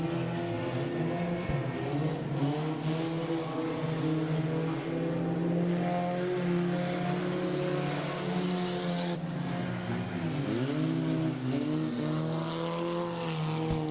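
Junk cars race in a close three-car duel down the back straightaway of a track, their engines roaring loudly and steadily with shifting, rising pitch as they pass, and no voices over the noise.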